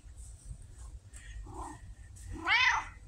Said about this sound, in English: And purring, too.